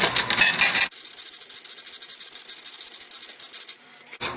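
A U220 kitchen printer runs its self-test with a loud, rasping mechanical burst that cuts off abruptly, followed by a quieter, steady whir and a final click.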